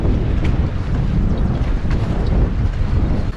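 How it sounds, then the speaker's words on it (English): Strong, steady wind roars and buffets the microphone out on open water during a wilderness canoe trip, a loud continuous rumble with no voices. "That wind's gonna be such a big challenge today."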